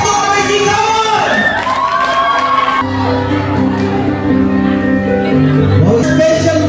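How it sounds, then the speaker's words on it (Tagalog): Crowd at an 18th birthday party cheering, shouting and whooping loudly and continuously, children's voices and raised calls mixed in, close and dense throughout. "Palakpakan kami sigawan!"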